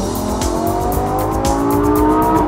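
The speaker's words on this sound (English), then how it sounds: "I'm driving a 2014 Nissan 370Z Nismo" A 2014 Nissan 370Z Nismo's engine revs loud and close while driving, its pitch climbing steadily under heavy road and exhaust rumble.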